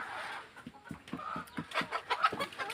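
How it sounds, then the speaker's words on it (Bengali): Fayoumi hens in a poultry farm shed holding about 140 birds cluck in a steady string of soft, repeated calls, with chatter from the flock layered over one another and no voices. "এখানে একশো চল্লিশটি মুরগি রয়েছে"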